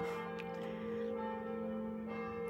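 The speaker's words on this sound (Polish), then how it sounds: "mieszkam tuż pod kościołem, jak zaczynają dzwonić" Church bells from a church right next to a home ring out as a sustained, resonant tolling that hangs steadily in the air, fairly faint and heard from indoors.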